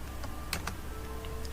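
Light computer keyboard typing during a Python programming lesson, a few scattered soft clicks over a steady background hum.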